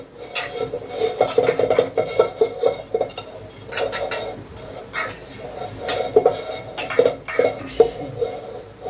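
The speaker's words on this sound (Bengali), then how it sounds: "এটাকে ভালো করে পটটার মধ্যে মেখে নেব, যাতে চালগুলো লেগে যাতে না যায়" Rice for a homemade chicken biryani is mixed in a pot, with metal utensil scrapes and clinks against the pot in irregular bursts, close by, over faint background noise.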